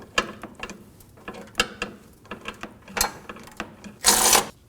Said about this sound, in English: Break the bolt free, remove the nut, and remove the bolt.